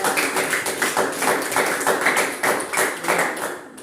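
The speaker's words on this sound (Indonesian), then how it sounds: "kita berikan tepuk tangan kepada" Classroom applause, a dense, even patter of many hands clapping close by for several seconds and fading at the end.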